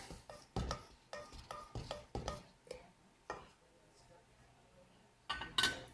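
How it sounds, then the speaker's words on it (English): A spoon clinks rhythmically against a bowl while stirring a dressing, about eight quick close taps in a row, a pause with faint shuffling, then a final louder clatter. "And give this a stir."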